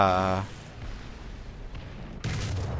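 A tank cannon round slams into an engine compartment in War Thunder, with a loud burst opening the moment, then a low rumbling lull and a second heavy crash near the end.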